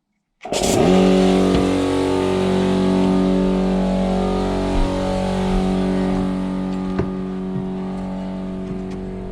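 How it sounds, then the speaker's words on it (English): A needle scaler attachment on an air chisel, driven by a compressor, starts abruptly and holds a loud, steady, buzzing pneumatic drone while scaling metal. It runs continuously close by, with only slight wavering and no voices. "Actually, this is not exactly a needle scaler, it's just a needle scaler attachment for an air chisel"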